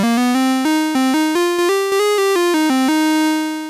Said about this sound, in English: I will be demonstrating the keyboard just by using a preset initialized bass patch, which sounds like this in monophonic.